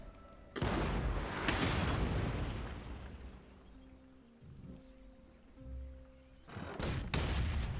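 Artillery barrage in Total War: Warhammer, with heavy booming blasts at the start and near the end, a quieter rumbling stretch between them with steady tonal hums.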